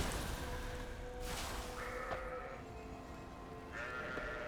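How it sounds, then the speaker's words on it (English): Sheep (argali) bleat a couple of times in World of Warcraft: Dragonflight, faint and somewhat distant, over a soft steady background hum. "A bunch of sheep."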